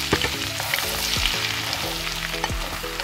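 Garlic fries in butter in a pan for homemade palabok, a dense close sizzle and crackle with a few spoon scrapes and light clinks against the pan, no talk.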